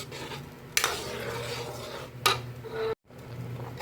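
A spoon stirs mung bean stew in a pot, with two sharp scrapes against the metal and a soft bubbling simmer between them, broken by a brief dropout near three seconds.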